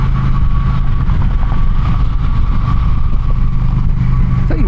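An Indian Challenger motorcycle engine pulls steadily under mid-throttle while riding, a loud continuous low rumble with a constant drone and no pauses.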